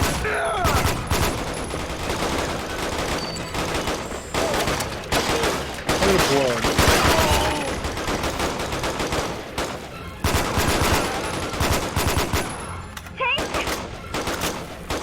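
Rapid bursts of gunfire and automatic weapon fire fill a firefight in the PC shooter game 007 Quantum of Solace, dense and loud throughout with short pauses, while voices speak over the shooting.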